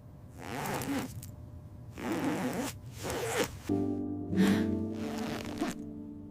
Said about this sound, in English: My fingers trembled as I slowly pulled it open.